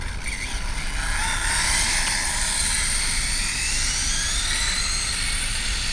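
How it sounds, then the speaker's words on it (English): Arrma Typhon RC car on a 6S setup running at full throttle, a loud, continuous high-pitched electric motor whine that holds steady throughout, close by, with no speech. "Today we have the Arrma Typhon running on 6S."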